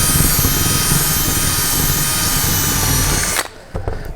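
Power drill boring out a rivet holding chrome trim on a 1967-72 Chevy or GMC truck, a loud continuous whine for about three seconds, then the motor stops abruptly, with a few brief clicks afterward.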